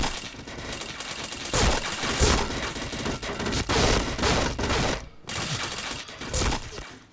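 Dense video game gunfire in an APC-armed match, bursts of rapid shots rolling almost continuously with short gaps, loud and close, no talk over it.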